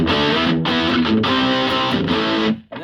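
Distorted electric guitar played through a Yamaha THR II amp with a British 2x12 cabinet response, sounding as steady strummed chords with brief breaks, loud and close, and fading out at the end.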